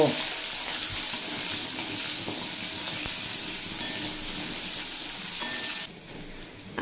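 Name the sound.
frying potatoes and carrots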